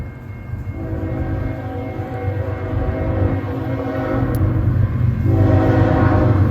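Freight train rolling past at Ladysmith, a steady rumble of railcars with rising loudness and faint wheel noise throughout; a horn is not clearly distinguishable over the continuous roar.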